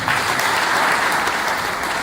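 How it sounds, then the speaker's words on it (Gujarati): A church congregation claps to glorify God during a Gujarati Christian praise service, a dense, even burst of many hands applauding together throughout. "તાળી પાડી પ્રભુને મહિમા"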